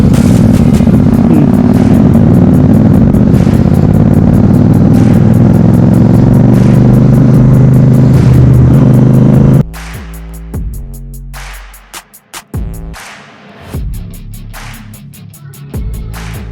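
A group of Royal Enfield Super Meteor 650 motorcycles on a ride from Shimla to Delhi, their engines droning loudly and steadily, then easing off and dropping to a quieter, uneven burble as the bikes slow down.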